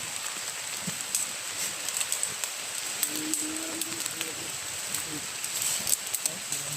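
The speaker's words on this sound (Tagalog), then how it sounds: "Ulan na talaga." Steady rain patters on a surface, a soft continuous hiss with scattered drops, fairly quiet throughout.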